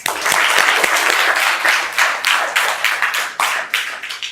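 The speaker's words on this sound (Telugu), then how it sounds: "super, claps" Children at an orphanage foundation in Hyderabad burst into applause, a loud close round of clapping that pulses in uneven waves for several seconds before tapering off.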